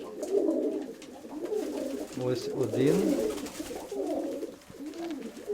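Pigeons coo softly nearby, with a few rising and falling calls around the middle, while a person talks quietly over them.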